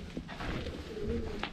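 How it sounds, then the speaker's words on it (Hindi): Pigeons coo inside the old Loharu Fort in Bhiwani, a steady low murmuring call that carries through the whole stretch, moderately close and echoing, with no talk over it. "अंदर से कबूतरों की आवाज़ें भी आ रही हैं"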